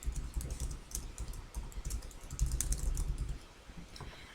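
Fingers type a slide title on a computer keyboard, a close, quiet run of quick irregular key clicks in short bursts, with no talking.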